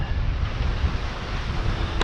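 Big ocean waves and strong wind at sea around a singlehanded sailboat crossing from Bermuda to the Azores, a constant loud roar of surf and wind buffeting the microphone, with no voices.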